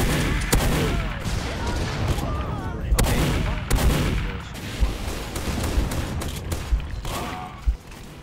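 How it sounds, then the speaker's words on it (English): Sticky bomb explosions in Team Fortress 2, played in VR: a dense run of booming blasts and gunfire-like cracks, several sharp loud peaks spread unevenly across the stretch over steady game noise. "Yeah, that's a lot of sticky bombs."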